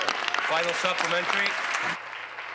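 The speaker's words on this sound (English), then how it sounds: "Thank you for that applause." Applause in the Ontario legislature, a short burst of clapping from the chamber under a speaker's voice, fading to quiet room tone near the end.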